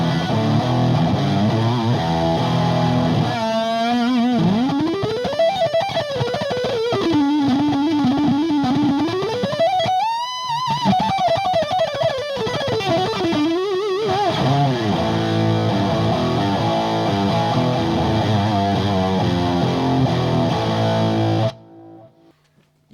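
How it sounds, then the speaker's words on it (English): An electric guitar through a Boss BD-2 Blues Driver overdrive pedal with gain and level turned all the way up, playing loud, heavily distorted bends and sustained notes, with a hiss underneath that cuts off abruptly at the end. "I'll turn the gain up all the way and the level just to check out how that sounds"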